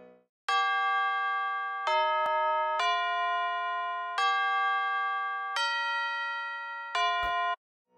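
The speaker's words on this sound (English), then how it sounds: "Next we have is a gong. Tubular bell. I'm gonna call it the gong." A gong-like tubular bell sample in FL Studio strikes six times in a bright, ringing melodic pattern, each clean tone sustaining briefly before the next, with no voices.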